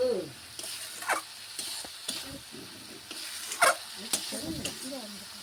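Masala for a prawn malai curry made with cow's milk being stirred in a pan, soft scraping and gentle sizzling with occasional utensil taps, fairly quiet, with a voice speaking intermittently.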